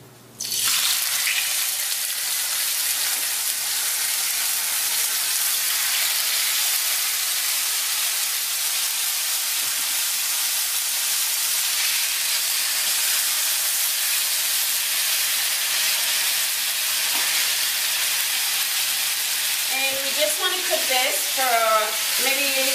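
Salmon slices hit hot cold-pressed coconut oil, setting off a sudden loud, steady hiss of sizzling that holds evenly throughout, with a few scraping and bubbling sounds near the end.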